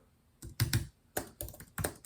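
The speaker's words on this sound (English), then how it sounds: "I'm going to type that." Short bursts of typing on a computer keyboard, several clustered key clicks in quick groups with brief pauses between, close and clear with no talk.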